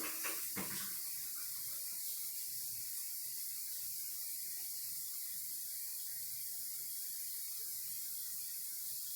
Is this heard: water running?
yes